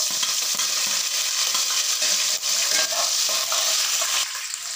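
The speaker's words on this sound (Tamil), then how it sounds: "பச்சை மிளகாய், பூண்டு, வெங்காயம், கருவேப்பிலை, எண்ணெய் வதக்கிறதுக்கு தான் எண்ணெய் ஊற்றிருக்கேன்" Green chilli, garlic, onion and curry leaves sauté in hot oil for a cabbage rava kichadi, a close, steady sizzle broken by occasional stirring scrapes and no voices.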